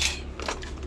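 Metal straps from an old patio chair being cut, giving a short, close crunching snip with a crackly bite, heard alone in a brief burst.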